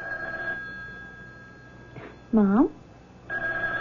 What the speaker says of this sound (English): Why don't you answer the phone?